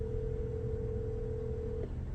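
Steady telephone tone heard while placing a call, a constant single pitch holding close and clear for about two seconds before cutting off over a low background hum.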